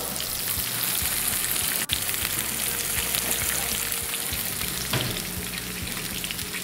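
Cheese and prawns sizzling and frying in a pan, a steady dense crackle that runs the whole time, with one sharp clack near the start.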